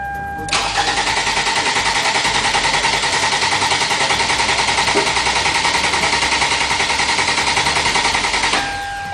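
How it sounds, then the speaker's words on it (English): A car engine cranking under a remote starter but failing to start: one loud, continuous starter whir with a rapid, even chugging pulse, lasting about eight seconds before cutting off abruptly. "trying to give itself each chance to get the car to start"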